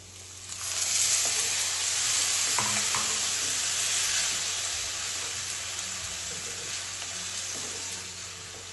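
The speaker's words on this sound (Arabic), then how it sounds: "هنا البنات غنزيد مطيشه اللي عندي محكوكه مع الثومه." Grated tomato and garlic hit a pan of fried onion and sizzle loudly, a steady close frying hiss with faint stirring scrapes.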